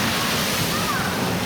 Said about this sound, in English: Big splash from a little car.